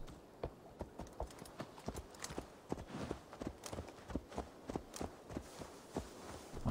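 A horse walks at a steady pace in Assassin's Creed Valhalla, a regular series of distinct hoof clip-clops close by, with faint game ambience behind and no talk over it.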